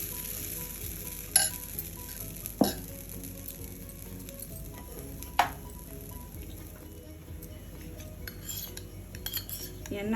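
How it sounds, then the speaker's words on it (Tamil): Green gram dosa batter sizzling on a hot tawa: a steady, soft frying hiss throughout, broken by a few sharp metallic clinks of a utensil against the pan. "பச்சை பயிர் தோசை போடலாங்க"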